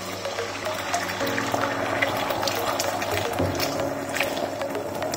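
A hot pan on a warm stove bubbles and hisses steadily before the summer roll wrapper mixture is poured in, with a constant close simmering texture and a low hum underneath.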